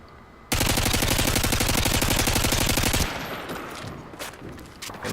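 Sustained automatic fire from the ACR rifle with a holographic sight in Modern Warfare 2, a loud dense rattling burst of rapid shots lasting over two seconds, then a fading echo and scattered clicks.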